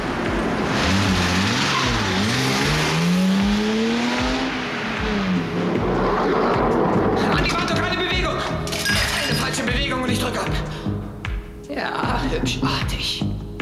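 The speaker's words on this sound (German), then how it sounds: "Lass den Wagen vorfahren." A car pulls up fast with tires squealing and an engine revving loudly and close, followed by clattering, shattering impacts and raised voices over the noise in a German-dubbed action film.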